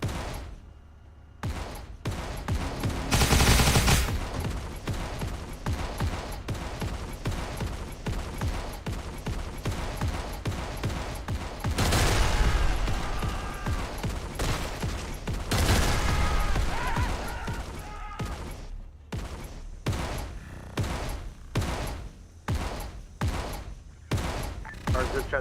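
Sustained heavy gunfire in the military shooter Arma 3 during a multiplayer operation, with dense automatic bursts and single booming shots, loud and near throughout with little pause.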